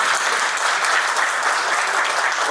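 An audience at a tribute event for General Bipin Rawat claps steadily and densely, a loud continuous wash of applause with no voices over it.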